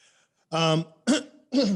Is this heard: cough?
yes